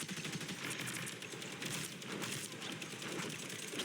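Rapid automatic gunfire in the hero shooter game Marvel Rivals, a dense, continuous rattle of shots filling the whole stretch at steady loudness with no talk over it.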